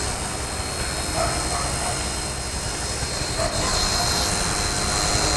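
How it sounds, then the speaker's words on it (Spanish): An Eachine E110 toy RC helicopter flies nearby on its first flight, giving a steady, loud high-pitched electric whine with constant rotor buzz that stays level throughout, with no talk. "Miren qué bonito se ve este helicóptero"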